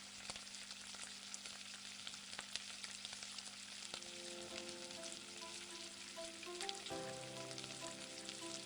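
Raw chicken pieces for a zinger burger deep frying in oil, a loud continuous bubbling sizzle with crackling pops throughout and no voices.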